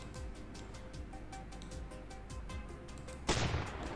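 Cannons on a boat in the Roblox game Build A Boat For Treasure, one sharp blast near the end after a stretch of quiet background game sound.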